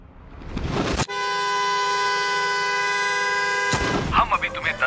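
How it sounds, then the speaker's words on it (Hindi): A car horn blares in one long, steady, loud blast lasting nearly three seconds, with crowd noise and voices before and after. "अगर तुम सब बाहर जाकर अपनी कार का हॉर्न लगातार बजाते हो"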